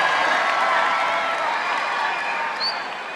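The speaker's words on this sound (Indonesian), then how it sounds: "Tepuk tangan buat Pak Seskap." Steady applause from a large audience at a national Christmas celebration in a Toraja church, a continuous mass of clapping that tapers slightly toward the end.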